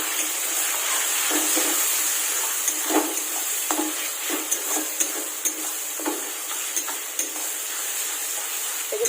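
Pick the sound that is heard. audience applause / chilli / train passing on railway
chilli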